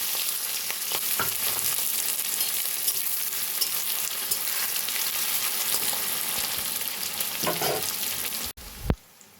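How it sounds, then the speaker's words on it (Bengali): Finely chopped onion frying in hot oil in a wok with bay leaf, cardamom and cinnamon, giving a loud, steady close-up sizzle that runs continuously before a brief stir-like clatter near the end. "পেঁয়াজ হালকা ভেজে নিয়েছি।"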